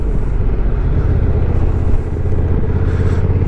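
Honda NT1100 motorcycle cruising in sixth gear at around 35 mph, a steady loud low engine drone with road and wind noise, continuous and close throughout without any talk.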